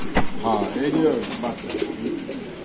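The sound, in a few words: pigeons cooing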